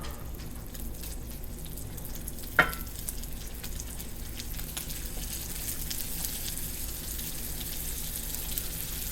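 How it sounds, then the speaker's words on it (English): Mild breakfast sausage patties frying in a skillet, giving a faint, steady sizzle throughout with one sharp click partway through. "we're going to cook these breakfast sausage patties up"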